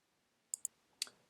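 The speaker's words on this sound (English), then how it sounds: "click on Save and Display" Three sharp, quiet mouse clicks, two in quick succession followed by a third a moment later, close and alone against near silence.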